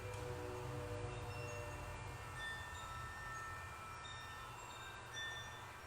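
A train rumbles past at a distance, a steady low roar with faint high squealing from the wheels, moderately quiet throughout.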